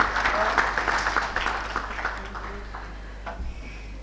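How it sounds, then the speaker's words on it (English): A conference audience at an infrastructure event breaks into applause, loud at first and then gradually thinning out, with faint murmuring in the hall. "Can we please have a big round of applause, everyone?"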